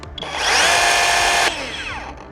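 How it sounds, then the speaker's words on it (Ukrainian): A Dnipro-M cordless chainsaw whines loudly at high speed for about a second, then cuts off, the chain stopping instantly as the motor winds down with a falling whir. "Двигун зупиняється повільно, щоб не пошкоджувати металеві елементи всередині, а ланцюг зупинився моментально."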